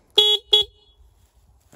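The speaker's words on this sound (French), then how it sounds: "Un petit klaxon." Horn of a new 2022 Yamaha 700 Raptor quad sounding two short, close beeps in quick succession, then quiet.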